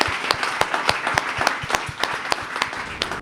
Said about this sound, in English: let's have a big round of applause for our panelists and for ourselves today